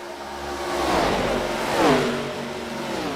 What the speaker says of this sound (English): Listen to the field whiz on by.